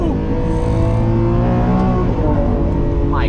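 Lamborghini Countach engine revving hard through rapid gear shifts, a loud, continuous high-revving roar with rising and falling harmonics close by.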